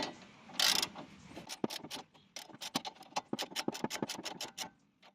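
A ratchet tightens the nut on a Nissan sway bar drop link: a quick burst of rapid clicking, then a string of sharp, evenly spaced ticks close up, with no talk.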